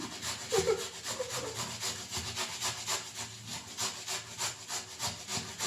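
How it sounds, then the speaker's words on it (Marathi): Potato grated by hand in a home kitchen, a steady rhythmic scraping and rasping with repeated strokes, fairly close and continuous, with no talking. "अपना लास्ट बटाटा बाकी है देन हा सुद्धा आपण किसून घेऊया"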